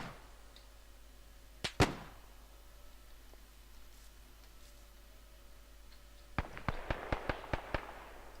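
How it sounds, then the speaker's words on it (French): Distant gunshots on a hike along the Kokoda trail: one or two sharp reports near the start, then a rapid string of about eight cracks later on, each echoing faintly over quiet background. "on a entendu des coups de feu"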